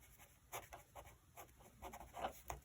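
Faint marker or chalk scratching across a board in a quiet classroom, a series of short irregular strokes with light rubbing between them.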